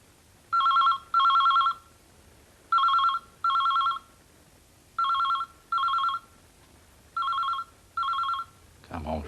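A landline telephone rings in four paired bursts of electronic trilling, each pair separated by a short pause, clear and fairly close in a quiet room.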